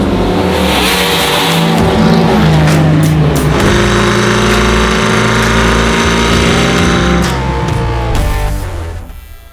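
A procharged 800-horsepower LT4 engine in a 1968 Chevy Camaro roars loud and close, its pitch climbing through rising revs with shifts before easing off at the end.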